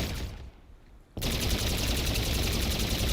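Rapid automatic gunfire in a zombies video game during a boss fight, a sustained loud burst of closely spaced shots that starts abruptly after a brief quieter gap and keeps going without pause.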